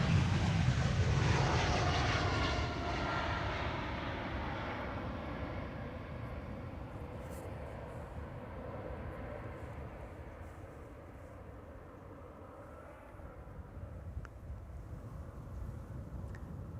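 Passing airplane at Amsterdam Schiphol Airport gives a loud, broad engine roar that is strongest at first and then slowly fades into a steady distant rumble, with faint clicks near the end.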